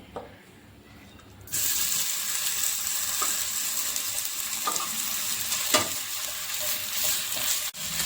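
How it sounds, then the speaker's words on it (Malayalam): Crushed ginger and garlic dropped into a hot pan for Kerala-style chilli chicken, a sudden loud sizzle bursting in after a quiet start and holding steady, with a few faint spoon scrapes. "പാൻ ചൂടായിട്ടുണ്ട് ഇനി ഇതിലേക്ക് നമുക്ക് ഒന്നര ടേബിൾ സ്പൂൺ ഇഞ്ചിയും വെളുത്തുള്ളിയും ചതച്ചത് ചേർത്ത് കൊടുക്കാം"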